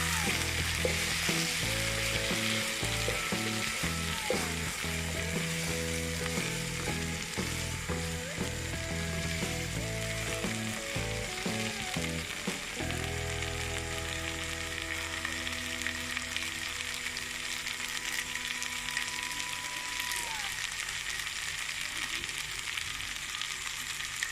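Maghaz masala sizzling in a pan with ginger, fresh coriander and green onions, a loud, steady frying hiss with clinks and scrapes of a ladle stirring.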